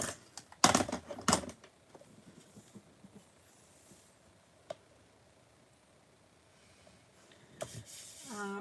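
A paper punch cutting through card stock for handmade cards, giving two sharp, close crunching clacks early on, then quiet handling ticks and a final clatter near the end.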